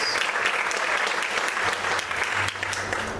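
A church congregation applauds steadily during an evening service, the dense clapping filling the hall without pause, with a faint low hum beneath it.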